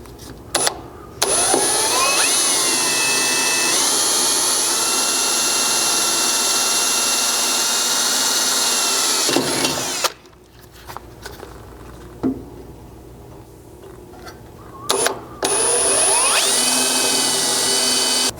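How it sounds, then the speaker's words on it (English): A power drill with a 1/8 inch bit boring a pilot hole in the center of a marked spot during a Chevy Colorado skid plate install, a loud steady high whine held for long stretches with brief pauses and a quieter gap midway. "we grabbed an 1/8 inch drill bit to drill a pilot hole in the center."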